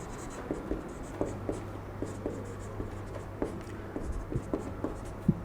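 Chalk or marker tapping and scraping on a board in a chemistry class, close and steady, with short strokes recurring in an irregular rhythm over a low background hum and no talk.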